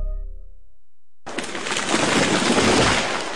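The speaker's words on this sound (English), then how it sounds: "That was the sound of a tree falling." After a low fading rumble and a second of quiet, a loud sustained crash and roar erupts, like a large tree splintering and falling through branches.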